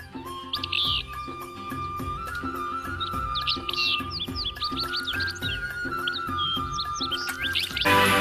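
Small birds chirp and twitter busily at a village pond, several calls overlapping in quick bursts above a steady low hum, nearby and moderately loud.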